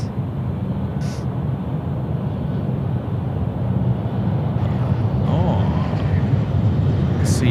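A Velocity aircraft on final approach to runway 16 at Sydney Airport at night, a steady low rumbling drone that grows slightly louder and holds throughout under the outdoor ambience.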